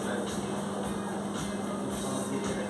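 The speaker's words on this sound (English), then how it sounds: "This is the train station in Cork." Steady rumbling hum of a train idling or rolling at the train station in Cork, Ireland, with a constant low drone and faint mechanical whine, continuous and moderately distant.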